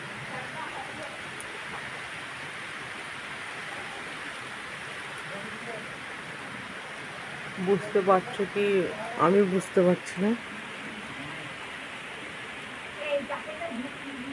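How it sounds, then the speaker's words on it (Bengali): Outdoor rainfall makes a steady wash of hiss throughout, with someone talking over it in the middle and again briefly near the end. "এই যে দেখো ভিজে গেল, পুরো বৃষ্টি পড়ছে।"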